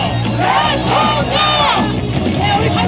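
A large outdoor rally crowd at Saesam Park in Paju chants and cheers for presidential candidate Kim Moon-soo, a loud, dense wall of massed voices with rising yells and rhythmic shouted syllables.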